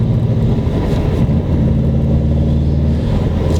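A 2008 Subaru WRX narrow body under hard acceleration, its boxer engine a loud, close, rumbling drone with a steady low-pitched throb heard from inside the car, no speech.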